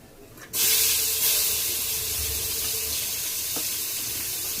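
An onion mixture drops into hot oil in a pan and bursts into a loud, steady sizzle that hisses on without pause.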